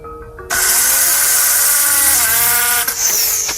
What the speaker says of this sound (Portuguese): Bom, a furadeira funciona